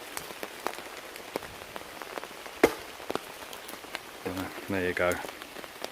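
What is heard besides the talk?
rain on tent and tarp during storm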